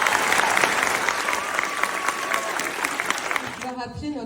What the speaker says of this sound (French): nos 16 doctorantes candidates que vous pouvez déjà applaudir chaleureusement